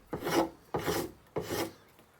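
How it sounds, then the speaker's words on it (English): A spokeshave shaves a wooden axe handle in three rasping strokes, each a close, dry scraping sweep with short pauses between, alone without speech. "I find it more comfortable to pull the spokeshave towards me"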